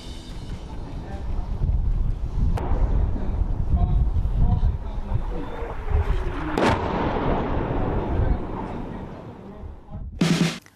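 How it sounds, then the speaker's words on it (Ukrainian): An AS-90 self-propelled howitzer firing, heard as a few sharp, heavy blasts spread across the stretch, with rumbling and wind-like roar between them and one loud burst near the end. "Ця САУ може стріляти чергою по 3 постріли за 10 секунд"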